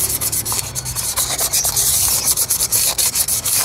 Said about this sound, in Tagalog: padaanan lang natin tong lining nya ng konting liha para gumaspang lang siya